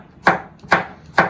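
Three crisp knife strokes chop vegetables on a cutting board for Korean kuksu noodles, evenly spaced and close up, with no talking.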